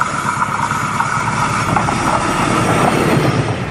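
A train rumbles past steadily with a constant roar and faint rhythmic clatter of wheels on the rails, with no voices.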